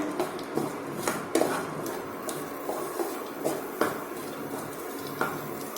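Dry fruits stirred and roasted in a pan over a medium flame, with a steady run of scraping and clinking as a spatula moves them, the knocks recurring irregularly at moderate, close range and no talk.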